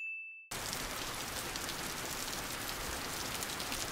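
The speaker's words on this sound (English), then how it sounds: "The rain finally came." Rain falls in the One Piece anime, entering abruptly after a brief bell-like ding as a dense, steady hiss of downpour that stays loud and even to the end.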